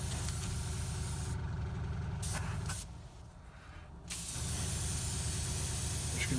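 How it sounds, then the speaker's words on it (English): An airbrush turned up to 22 psi blows steady air close by, a continuous hiss that pauses briefly around the middle and then resumes at the same level, with no talking. "I'm going to just rack the airbrush pressure back up to 22. I'm just putting air through"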